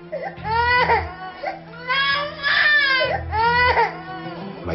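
A young girl wakes suddenly at night in a beachfront hotel and screams and cries in long, rising wails broken by short gasping breaths, loud and close throughout.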